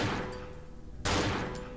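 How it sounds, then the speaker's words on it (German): Gunfire in the video game Cry of Fear: two dense bursts of shots at the start and again after a brief lull, loud and close, with no talking over them. "Schieß ihm 2-mal in den Kopf"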